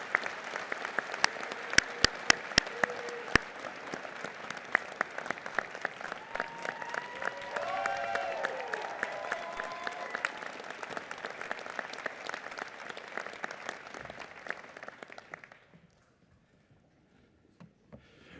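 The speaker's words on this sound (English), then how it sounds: "How about a round of applause for our faculty members and our administrators?" Applause for faculty and administrators at a School of Medicine and Health Sciences degree ceremony, a long, steady round of clapping from a large audience that fades out near the end, with a few voices underneath.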